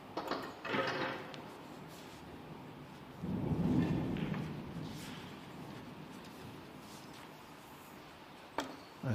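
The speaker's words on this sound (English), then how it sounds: "As the thunder rumbles." Thunder rumbles low and distant, audible inside the venue during a 2023 Championship League snooker match, swelling midway and then fading out under quiet room noise.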